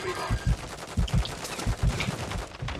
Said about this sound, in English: We're being shot from a different direction!